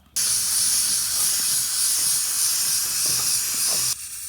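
Steady loud hiss of steam escaping from a pressure cooker whistle while broken rice cooks in a village kitchen, continuous and close, cutting off abruptly near the end.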